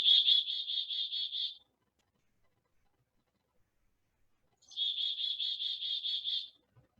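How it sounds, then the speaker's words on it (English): Chickadee calling, two bursts of quick, evenly spaced, high-pitched buzzy notes, each about a second and a half long, separated by a few seconds of silence, clear and close. "Can you see why it's called a chickadee?"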